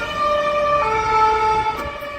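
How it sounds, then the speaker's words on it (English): An ambulance siren wails loud and close on a street in Lagos, Portugal, a steady multi-toned tone that shifts pitch partway through, with faint road traffic beneath and no talk. "It's an ambulance."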